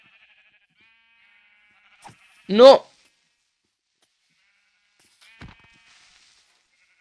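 Sheep in a video game give one short, clear bleat amid near silence, with brief clicks and a short spoken exclamation around it.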